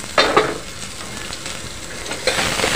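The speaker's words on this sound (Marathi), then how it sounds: "कांदा घालत आहे, अर्धा कप, म्हणजे 1 छोटा घ्या कांदा आणि बारीक चिरून मग घाला" Finely chopped onion sautés in a pot with a close, steady sizzle, marked by short bursts of louder frying and stirring at the start and again near the end.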